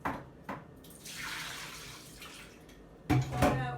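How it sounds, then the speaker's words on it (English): Brined turkey breast being rinsed under running water, a steady broadband water splash with a few sharp bursts of louder flow and spattering near the start and end. "I'm going to rinse it off under running water"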